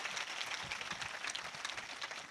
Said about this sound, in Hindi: इनके लिए ताली बजाओ बच्चों के लिए।